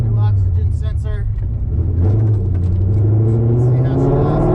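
A Coyote-swapped Fox Body car runs on fresh spark plugs and a new oxygen sensor, its engine a loud low drone that rises in pitch toward the end, with a person talking over it early on.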